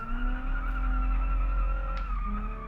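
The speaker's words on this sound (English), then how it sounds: "A lot of squealing going on." Steady high-pitched tire squeal from a car doing donuts in BeamNG.drive, over a constant engine drone, with a brief chirp of skidding near the end; no talking.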